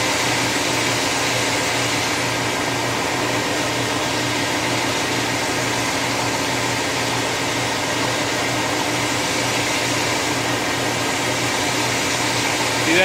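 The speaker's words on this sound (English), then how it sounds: "That noise in the background is the compressor." An air compressor running steadily in the background, a constant loud mechanical hum and hiss with a low tonal drone throughout.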